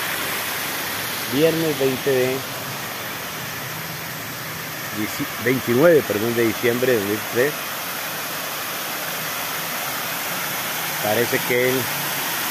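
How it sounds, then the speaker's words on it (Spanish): The Cañaveralejo river flows in the morning as a steady, loud broadband rush, with someone talking over it in several bursts. "Aquí está el río Cañaveralejo a estas horas de la mañana"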